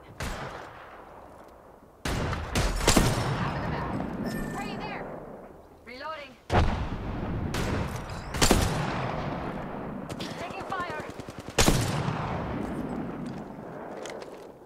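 Rapid automatic gunfire in the battle royale shooter Apex Legends comes in repeated loud bursts of cracking shots and rattling fire, with pauses between volleys and game voice lines and callouts under and between the bursts.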